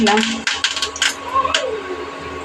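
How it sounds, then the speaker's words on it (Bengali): Dried chilli and curry leaves dropped into hot oil, giving a brief flurry of sharp crackling pops and sizzles that fades within a couple of seconds. "কারি পাতাটা খুব ফোটে তাই আস্তে আস্তে করে কারি পাতাটা দিয়ে"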